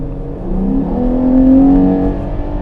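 Ferrari Purosangue engine revving on a dry mountain road in sport mode, a loud, close, smooth rising drone that swells and eases off again.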